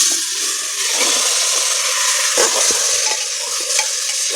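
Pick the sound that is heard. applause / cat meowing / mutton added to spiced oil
mutton added to spiced oil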